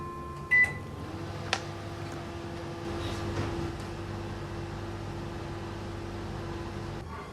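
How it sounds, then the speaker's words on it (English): A microwave oven runs with a steady low hum and faint whirring, preceded by a couple of brief clicks or beeps near the start, with nothing else over the continuous drone. "put it back in the microwave without the lid for another 8 minutes"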